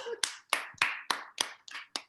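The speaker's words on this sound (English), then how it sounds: "Someone applauding for me?" A single person claps slowly during a live reading of a stage play: about seven crisp, separate hand claps spaced evenly, close and clear against silence.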